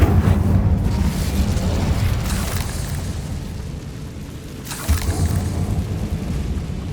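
Confringo blasting spell going off in Hogwarts Legacy, a loud, heavy explosion with a deep rumbling roar that fills the whole stretch, swelling again into a second burst near the end, no voices.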